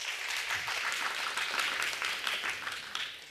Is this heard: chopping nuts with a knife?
no